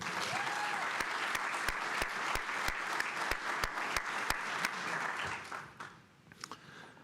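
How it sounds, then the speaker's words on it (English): At an Air Force ROTC commissioning ceremony, an audience applauds with a dense crowd wash and a few sharp, close claps standing out in a regular beat, tapering off near the end. "How about a round of applause for Major Glenn and all those that helped with the ceremony?"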